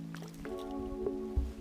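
A grayling splashes at the surface of the Izhma river on a late-September day, one soft plop under a steady low hum and faint background noise.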